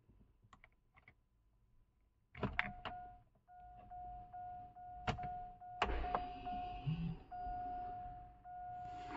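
Ignition key turned in a Hummer H3 fitted with a custom digital instrument cluster: a few soft clicks, then a sustained electronic chime tone with repeated electrical clicks and pulses, close and quiet, with no talk.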